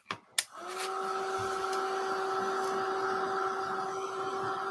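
A small handheld craft heat tool blows steadily to dry a coat of paint, a constant whirring hum with a high whine that runs unbroken after two quick clicks at the start.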